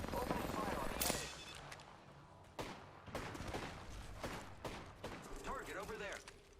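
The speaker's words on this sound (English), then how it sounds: "Opening fire on the enemy." Gunfire in a video game, a string of sharp cracking shots in quick uneven bursts, some close and loud and others softer, with speech over parts of it.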